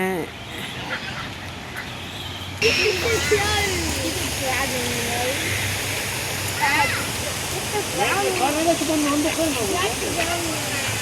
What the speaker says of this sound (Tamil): செம்மையாக தண்ணி கொட்டுது இல்லை இந்த சைடும்.